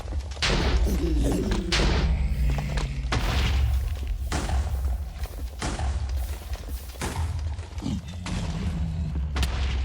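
TNT blocks detonate in the Minecraft 1.17 video game, producing heavy booming thuds, several in succession over a continuous low rumble, loud and close.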